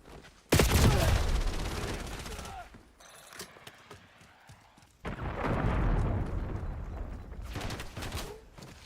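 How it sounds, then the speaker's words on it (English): Heavy firing in a video game shooter: a loud burst of blasts and explosive booms at the start, a quieter stretch, then another long roaring barrage of gunfire-like blasts, with no talking. "Using rocket launcher."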